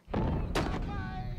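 Mortar firing in a World War II strategy game: a heavy booming thump followed by a second blast and rumbling tail, loud and close, all within a second and a half.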